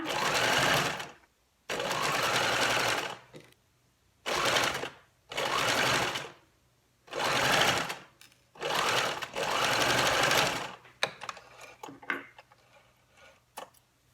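A sewing machine stitches bias binding onto a white chef's hat in repeated bursts of a few seconds each, separated by short pauses, with faint handling sounds at the end.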